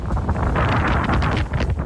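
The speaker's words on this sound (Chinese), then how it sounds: "澎湖地区也出现狂风，路树被吹得东倒西歪" Strong typhoon wind gusting on Penghu island, a loud, continuous roar buffeting the microphone with broadband rumble and no pauses.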